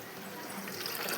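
A washing machine loaded with clothes fills with water, a steady hissing, splashing rush that stays even and moderately loud throughout, with no voices over it.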